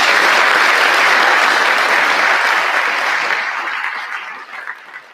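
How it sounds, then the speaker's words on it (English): Dense, loud applause from a live show audience after a panel, a steady wash of many hands that gradually thins and fades toward the end. "More applause."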